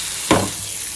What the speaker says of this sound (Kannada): ಉಳ್ಳಾಗಡ್ಡೆ ಅದೆಲ್ಲ ಹಾಕಿ ಒಗ್ಗರಣೆ ಕೊಟ್ಟು ನೋಡ್ರಿ